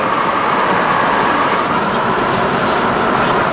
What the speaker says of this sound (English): it's a very weird feeling to pull the zero turn with the Jetta